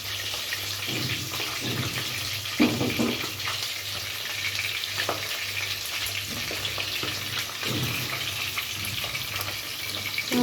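Fish frying in a pan, a steady close sizzle with occasional spits and light stirring clatter, continuous and unbroken, with no one talking.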